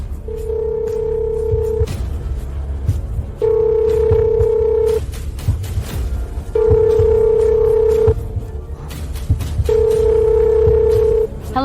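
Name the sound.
telephone call ringing tone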